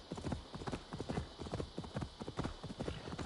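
Rapid, steady clip-clop of horse hooves galloping at a brisk pace in Assassin's Creed Valhalla, close and continuous across the whole stretch, with no voices over it.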